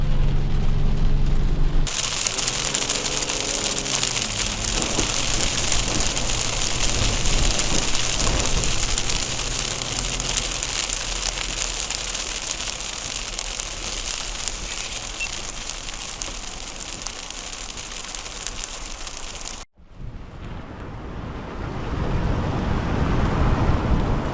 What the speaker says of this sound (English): Dude, check out this hail all over the beach.